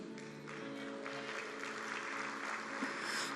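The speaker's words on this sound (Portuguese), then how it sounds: "aplauda o Senhor" A church congregation applauds, a continuous wash of clapping heard at moderate distance with a faint sustained tone underneath.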